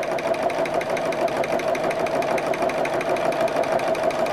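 A sewing machine runs at a slow, steady pace while stitching a bag, giving a continuous close whirring hum with an even mechanical pulse throughout and no voices.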